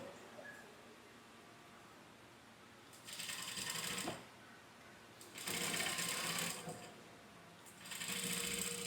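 A sewing machine stitching a pocket onto a pant, three separate bursts of fast mechanical whirring with quiet pauses between them, close and fairly soft over faint room noise.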